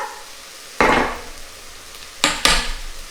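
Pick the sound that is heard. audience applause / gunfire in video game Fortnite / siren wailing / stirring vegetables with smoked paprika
stirring vegetables with smoked paprika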